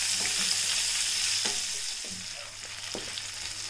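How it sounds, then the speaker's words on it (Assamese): Chopped onions fry in a hot pan for chilli paneer, a steady hiss of sizzling with occasional soft scrapes and knocks of stirring, close and alone without talk. "পিঁয়াজৰো কেঁচা গোন্ধটো নোযোৱালৈকে এইখিনি ভাজি ল'ম এনেদৰে।"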